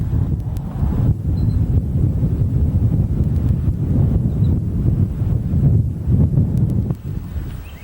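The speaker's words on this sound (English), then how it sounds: "It is windy though and very cold." Cold wind blows steadily across the microphone at Colter Bay in Grand Teton National Park, making a continuous low rumble that gusts and buffets without pause, with no voices.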